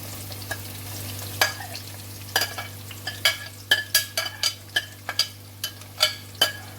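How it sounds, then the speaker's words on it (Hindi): Onions frying in oil left over from shallow-fried okra in a pan, a low steady sizzle punctuated by a quickening run of crisp spoon-on-pan stirring taps, close up with no talking. "इसी ऑयल में हम अनियन ऐड कर देंगे।"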